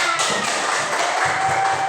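Schoolchildren clap together in a classroom lesson, a dense burst of hand claps lasting a couple of seconds, fairly close and steady.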